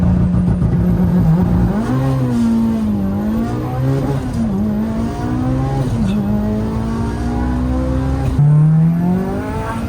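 A Mitsubishi Lancer Evo 8 engine heard from inside the car during a ride, loud and close, rising and dropping through several revs and gear changes with a steady droning pitch.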